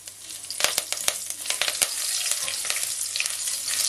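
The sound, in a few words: ginger frying in oil for curry crab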